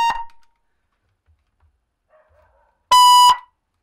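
An alarm siren goes off right after a button is pressed. It gives a short loud electronic tone at the start, a quiet gap with faint clicks, then a second loud piercing burst of about half a second.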